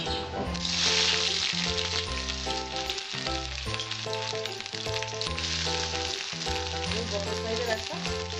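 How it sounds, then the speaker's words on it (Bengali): Chopped onion hitting hot oil in a pan sends up a continuous frying sizzle that sits beneath steady background music, with no one speaking. "এবার আমি এর মধ্যে পেঁয়াজ কুচিটা দিয়ে দেবো।"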